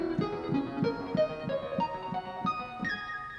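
A bright keyboard pluck synth sounds high in the upper register, tapping out a quick series of short melodic notes that ring briefly over a soft sustained backing, no voices present.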